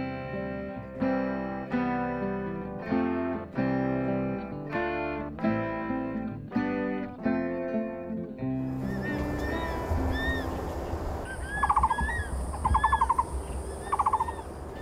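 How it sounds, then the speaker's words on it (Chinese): Following a stretch of plucked melodic notes, calls of a crested serpent eagle and a Taiwan barbet ring out in a morning bamboo forest on Guanyin Mountain; they are repeated, moderately loud sweeping calls over a hissy outdoor background. "早上的观音山有大冠鸠昂扬的莺啼，神隐在树洞里的五色鸟鸣叫"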